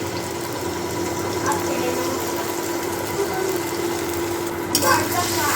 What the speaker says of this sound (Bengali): এবার ডিমটা ভেজে নেব